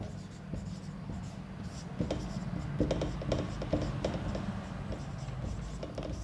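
Pen writing on paper during a maths lesson, soft scratchy strokes in short bursts, close and quiet.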